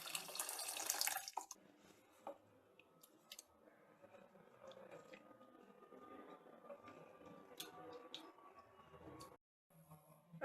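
Strained vegetable water is poured from an electric kettle into soup, a trickling, splashing pour that starts loud and settles into a steady quiet flow with small clicks, then stops near the end.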